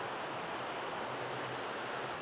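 A waterfall roars as a dense, steady broadband rush of falling water, constant and fairly loud throughout, with no voices.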